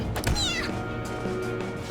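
A cat in Persona 5 lets out a single sharp meow near the start, close and clear over a soft game background.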